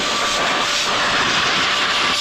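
A CalRC Turbo Jet Blaster air blower runs loud and steady at close range, a continuous high-pitched turbine whoosh with no break and no voices.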